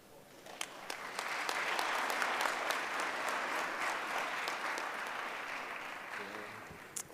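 Audience applause after a speech at a technology launch event for people with disabilities, a dense sustained wash of clapping that swells quickly and holds steady for several seconds before tapering off at the end.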